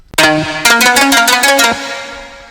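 A bright plucked synth phrase with repeated notes, each followed by a delayed echo that thickens the pattern before it fades into a decaying tail.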